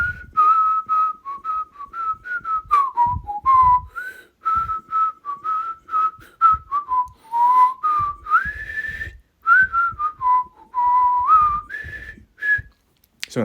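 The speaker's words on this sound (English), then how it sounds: "if you've not done whistling for a bit, sometimes you've got to warm up" A lone person whistles a pop melody, clear close-up phrases of sustained and sliding notes broken by short breaths and pauses, with no talking.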